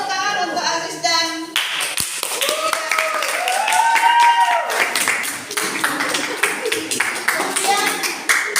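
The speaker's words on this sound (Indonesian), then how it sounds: "Boleh tepuk tangan untuk Aziz dan" Classroom clapping for students, a burst of hand claps that comes in mid-clip, mixed with voices talking and shifting tones, fairly close and loud.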